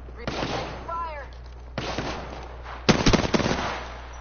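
Gunfire in the shooter Apex Legends comes in three separate bursts, each a rapid string of sharp shots, the last the loudest and densest.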